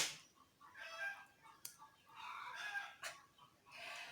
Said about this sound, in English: I'm sorry about the chicken out there. They're having one major party